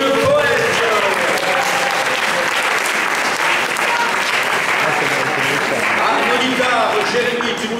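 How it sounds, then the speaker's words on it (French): An audience at a slam poetry semi-final applauds a poet after scores are announced, with sustained loud clapping and crowd murmur that carries steadily for nearly eight seconds. "On applaudit le poète."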